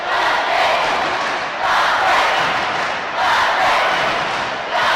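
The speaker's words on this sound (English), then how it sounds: "And the Beanntraí crowd really starting to get behind their team here" A Beanntraí crowd at a girls' schools basketball final cheers and shouts loudly in sustained surges, a dense roar of voices swelling in waves several times.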